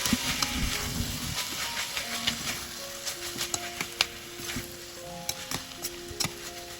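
Soya biryani sizzles in a pan as mint and coriander are stirred in, with a steady frying hiss broken by scraping stirs and metallic clinks from the spoon against the pan.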